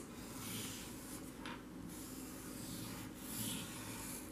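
A marker or crayon drawing butterfly wings on paper, soft scratchy rubbing strokes close to the microphone, with a few brief louder scribbles and no talking.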